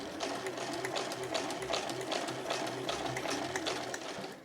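A household sewing machine stitching along the handle of a canvas tote bag made from Marimekko No. 8 canvas, a steady rapid mechanical rattle of needle strokes close up, with no talk.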